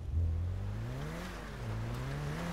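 A turbocharged car engine in the video game GTA 5 revs up and holds a strong, rising drone, dipping briefly mid-way before climbing again, loud and close with no talk over it.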